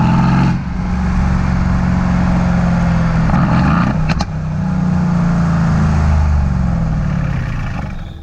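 A Mercedes-AMG C63S engine revs loudly and up close, a deep throbbing exhaust note that climbs and falls, with a short crackling blip around the midpoint before settling back into a sustained rumbling rev.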